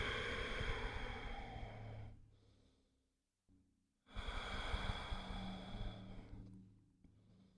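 A deep, slow exhale through the nose during a gentle yoga stretch for the hamstrings and inner thighs, long and airy and close to the mic. A brief silence follows, then another long breath swells in.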